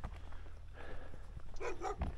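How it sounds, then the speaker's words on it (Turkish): A dog barks a few times from mid-distance near a cluster of rural houses along a walking route in Turkey, with footsteps and outdoor ambience underneath. "Aha, köpek var."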